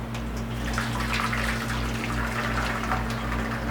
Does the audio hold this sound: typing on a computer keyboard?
no